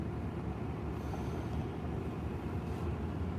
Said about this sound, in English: It's windy. That's what it is.